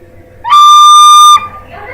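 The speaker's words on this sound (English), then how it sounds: "start blowing faster, not harder, faster into the whistle" A penny whistle sounds a single clear, bright note, loud and steady for under a second before stopping abruptly, with soft room noise around it.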